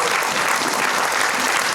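Loud, dense applause from an audience at a film trailer launch event, continuous clapping throughout with no gaps.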